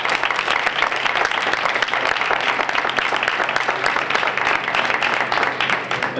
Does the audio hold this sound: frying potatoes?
no